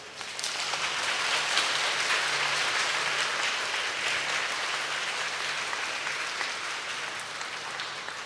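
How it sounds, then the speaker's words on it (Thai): A standing church congregation at a Thai religious-teacher appointment ceremony applauds in a dense, sustained wash of clapping that swells quickly and carries evenly for several seconds without talk. "ปรบมือแสดงความยินดีครับ"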